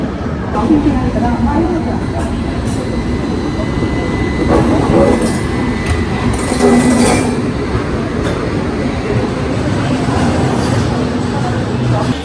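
The Howrah–Chennai Mail pulls out of Vizianagaram station, a loud continuous rumble of rolling carriages with rhythmic wheel clatter and occasional squeals, heard from on board with noise rising and falling.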